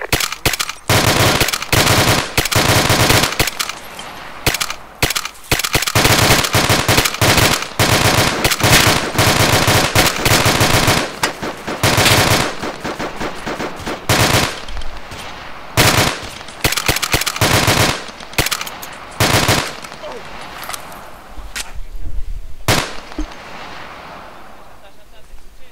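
Gunfire in the military video game Arma 2, loud and close: repeated sharp bursts and single cracks of automatic weapons with explosive booms, continuing throughout while players talk over it.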